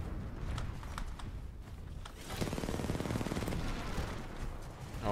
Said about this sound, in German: Das ist unser Geschütz, was da rumballert.